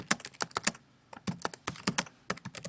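Rapid keystrokes on a computer keyboard as a quiz question is typed into a Google Forms question field, coming in clustered bursts of clicks with short pauses between words, close and clear.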